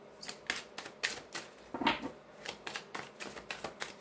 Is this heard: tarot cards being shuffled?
yes